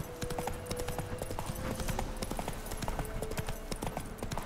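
Rapid clip-clop of a horse galloping in The Witcher 3, a steady run of close, loud hoofbeats from start to finish, with a few light game sounds mixed in.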